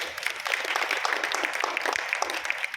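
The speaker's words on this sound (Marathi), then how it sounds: "त्यांचं आपण टाळ्या वाजवून स्वागत करू" A crowd claps steadily throughout, a dense, even applause welcoming a speaker at a lecture, heard close and continuous without pause.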